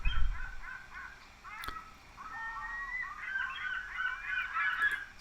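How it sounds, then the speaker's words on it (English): Seagulls squabbling in a stock sound effect: a few harsh, overlapping squawks, then a run of shrill, rapid cries that builds toward the end over a low background rumble. "Sounds like a couple of seagulls are fighting"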